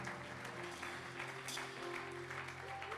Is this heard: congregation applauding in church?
yes